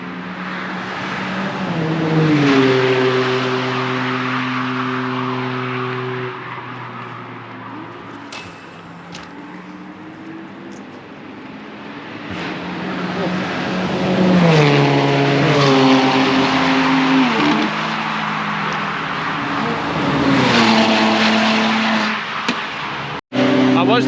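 A Porsche GT3 RS, a Lamborghini Huracán and track-spec BMWs race flat out on a circuit during a supercar track day, engines rising and falling in pitch as several cars sweep past in turn, loud and fairly near.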